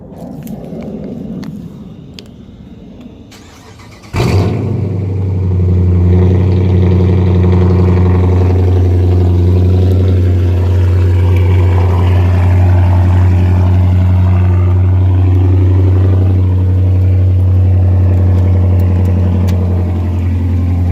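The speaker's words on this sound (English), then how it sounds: "It's the first cold start since I got the straight pipe." Chrysler 300S with a straight pipe exhaust on its first cold start: a sharp crank and catch after a few seconds of quiet, then a loud, deep, rumbling idle that stays steady and close for the rest of the clip.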